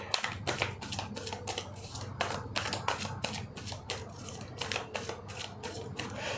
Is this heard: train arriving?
no